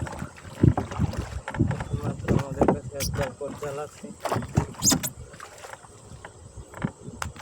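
A fishing rowboat slowly drifts off on the water while a net is cast, with wind buffeting the microphone, soft water movement and a person talking over it.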